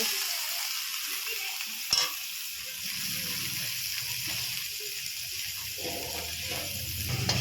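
Onions with cumin and garlic paste fry in a pan, giving a soft, steady sizzle with faint scraping from stirring. A single utensil clink sounds early on.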